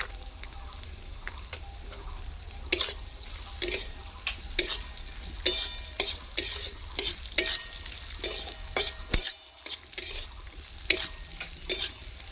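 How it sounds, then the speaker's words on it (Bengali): Broken cashews and raisins fry in a pan, giving a continuous crackling sizzle broken by repeated scraping stirs from a spoon, with one brief pause near the end. Close and fairly loud, with no speech. "ভাঙা কাজুটা দিয়ে দিচ্ছি এইটা খানিকক্ষণ ভেজে নিচ্ছি কিচমিচটাও দিয়ে দিলাম"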